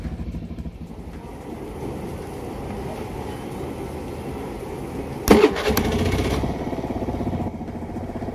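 Motorcycle engine running at idle, a steady low rumble with a brief sharp clatter midway, fairly close and without speech.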